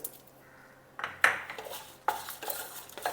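Dry coconut pieces and cumin seeds being stirred in a pan, with a few distinct scraping, clinking strokes of a utensil against the metal, close and fairly quiet, without talk.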